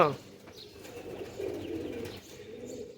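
Sialkoti breed pigeons coo with low, soft burbling calls through most of the stretch, close by on a rooftop loft, steady and continuous with a brief brighter sound at the start.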